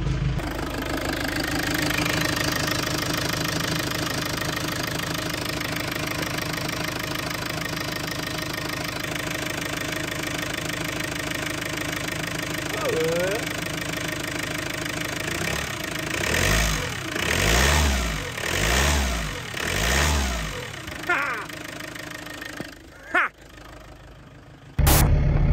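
A Renault Master 2 van engine with a timing belt fault runs steadily with a rattling, clattering knock, then revs up and down several times in surges before cutting off; close and loud.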